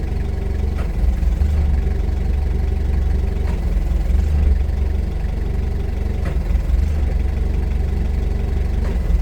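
2019 Toyota 02-8FDJF35 forklift engine running steadily while the side shift carriage operates, a constant low rumbling hum at even loudness with faint periodic knocks over it.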